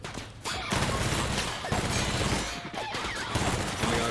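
Video game gunfire rattles in dense, loud bursts, the gun firing in rapid volleys separated by brief pauses, close and harsh throughout.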